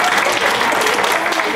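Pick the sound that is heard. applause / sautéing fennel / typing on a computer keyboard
applause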